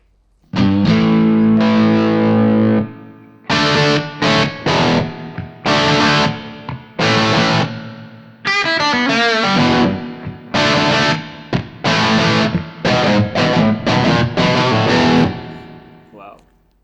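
Electric guitar played through a Marshall Plexi amp model on a Donner Arena 2000 multi-effects unit: loud, crunchy distorted rock riffs in short bursts of chords and single notes, with brief gaps between phrases.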